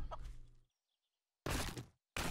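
Chicken clucking in the video game 7 Days to Die, a few short loud bursts separated by silence, with a brief faint tonal squeak in between.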